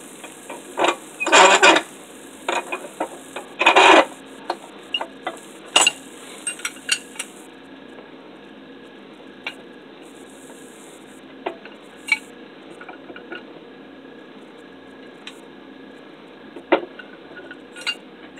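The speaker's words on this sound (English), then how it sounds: "We're going to put it in the vise and we're going to twist it." A Damascus steel cable is twisted in a vise, giving sharp metallic clinks and scrapes, a few loud clusters early on and then sparse, lighter ticks, close by with no voices.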